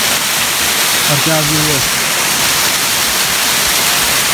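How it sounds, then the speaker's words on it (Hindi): Steady broadband roar of a waterfall on a hillside trail near Dharamshala and McLeodganj, a constant rushing wash filling the whole clip, with a brief spoken remark over it. "अब इसके ऊपर है झरना"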